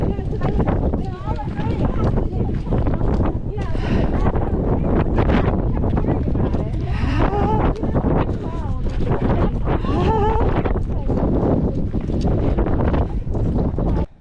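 Gusty Patagonian wind on the W trek buffets a GoPro microphone with loud, continuous roaring rumble. Voices sit partly buried beneath the blasts.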